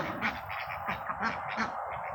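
Ducks quack in a quick series of nasal calls, fairly faint and near-continuous, with no talking over them.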